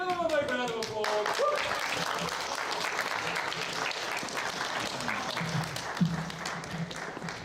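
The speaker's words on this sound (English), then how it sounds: "Give them a big round of applause" A school assembly crowd applauds an award in a sustained wash of clapping, opening under a voice that trails off at the start, then continuing dense and even with a few louder individual claps nearby.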